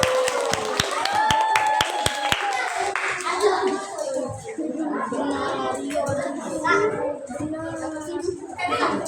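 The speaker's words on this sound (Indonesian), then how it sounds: "Tepuk tangan untuk semuanya." A classroom of children claps together for everyone, starting with crisp, evenly spaced group claps that soon break into scattered clapping under excited children's chatter.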